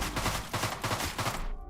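Rapid SMG bursts from the Deadbolt video game, a fast stuttering volley of close, loud shots that cuts off abruptly after about a second and a half.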